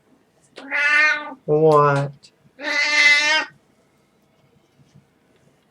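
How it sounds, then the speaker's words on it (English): Three loud, close cat meows in quick succession, each a drawn-out harmonic cry, the middle one lower and rougher, followed by near silence; a brief spoken word occurs among them. "Are you a happy cat?"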